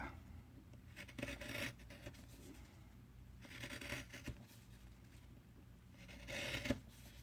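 A knife shaves a small wooden trout fishing float in soft, faint rasping strokes that come in short bursts with quiet pauses between them.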